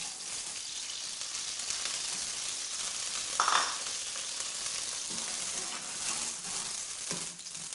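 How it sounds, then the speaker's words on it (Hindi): Onions sizzle in hot ghee in a pan, a steady close hiss with a brief louder flare partway through as they hit the fat. "तो अभी सबसे पहले हम इसके अंदर प्याज डालेंगे। ये प्याज हम इसके अंदर डालेंगे।"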